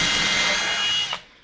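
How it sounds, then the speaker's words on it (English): Power drill pre-drilling into wood for a DIY sawhorse, a steady high whine for about a second, close and loud, then winding down and stopping. "So I'm going to drill 1 for the middle up here."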